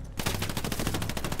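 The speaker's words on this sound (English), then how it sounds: "They have an MG here." An enemy machine gun in Hell Let Loose rattles off a rapid, steady burst of loud, close shots that runs throughout with no pauses.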